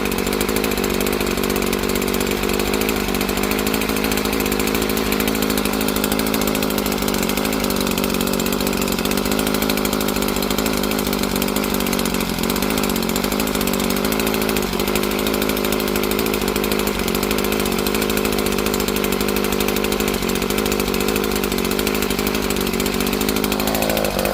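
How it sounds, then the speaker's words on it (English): An Echo SRM-2620 string trimmer, a curbside find just repaired with new parts, idles its small two-stroke engine. It holds a loud, steady, close buzzing drone for the whole stretch with no other sounds. "I'll just let it idle a little bit."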